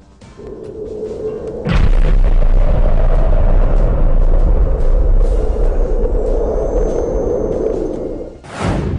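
North Korean hydrogen bomb explosion: a sudden loud boom that swells into a long, sustained roaring rumble lasting several seconds, then fades before a second burst at the end.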